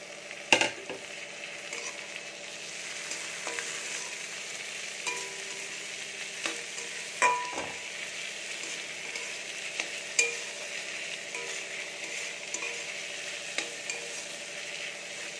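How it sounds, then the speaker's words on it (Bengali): Onions with chopped tomatoes frying in a pan for egg tadka, a steady low sizzle with occasional scraping stir clicks spread through, no voices. "পেঁয়াজটা ভাজা হয়ে গেছে, এবারে দিয়ে দেব কুচিয়ে রাখা টমেটো।"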